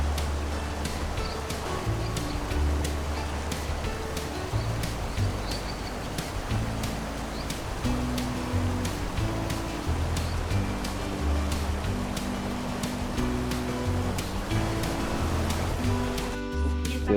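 The Tuparro river in Vichada flows where people are bathing, a continuous near rush and splash of moving water running throughout without clear speech.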